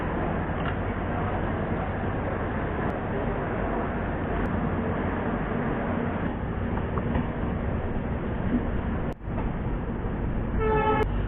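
The Mau Anand Vihar Express pulls out of Azamgarh station in monsoon weather with a loud, continuous rumble of rolling wagons, a brief dip near the end, then a short horn-like toot as it closes.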